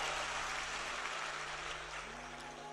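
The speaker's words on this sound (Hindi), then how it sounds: "एक बार जोरदार ताली बजा" Sustained, dense audience applause fills a hall during a Hindu religious discourse, a steady loud roar of many hands clapping with no talk over it, easing slightly toward the end.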